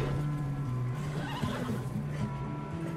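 A horse in the game Red Dead Redemption 2 lets out a clear, drawn-out whinny with shaky pitch, heard close over soft hoof clip-clops and low ambient noise.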